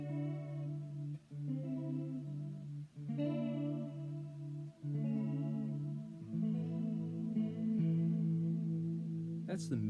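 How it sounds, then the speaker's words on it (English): An electric guitar played through a chorus effect rings out in sustained, shimmering chords and single notes, with fairly quiet repeated strums and a brief sharp pick noise at the end. "I'll dial in a little chorus here for this"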